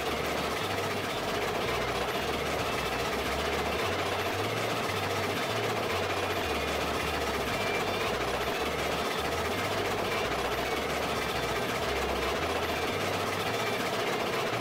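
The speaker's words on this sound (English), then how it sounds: "Of course, we immediately start wheel slipping." Steam locomotive in the RailRoads Online game spinning its driving wheels, a steady mechanical chugging rumble with rapid low beats running throughout at moderate loudness, no voices.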